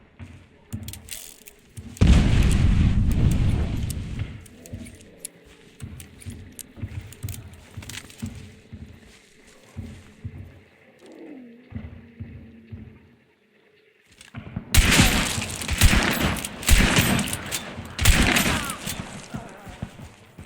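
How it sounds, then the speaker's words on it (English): In the video game Hunt Showdown, a shot at an explosive barrel sets off loud, rumbling blasts and crackling bursts, two heavy eruptions separated by quieter thuds and rattling in between. "I decide to shoot a barrel and see what happens."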